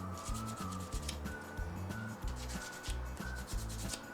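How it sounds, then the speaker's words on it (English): Painted wooden furniture is sanded by hand to distress the finish, heard as quick rhythmic back-and-forth rasping strokes, close and fairly soft, repeating steadily. "I don't want to sand the whole painted surface off of there."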